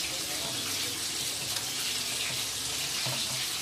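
Chicken burger patty cooking on a grill, a steady hissing sizzle that holds evenly throughout with faint clinks underneath.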